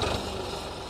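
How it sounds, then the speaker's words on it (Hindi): A farm tractor idles in a Pakistani village with a steady, close, rumbling engine drone that holds even throughout the short moment. "अभी तारिक साहब जो है ना वो चलाएंगे ट्रैक्टर"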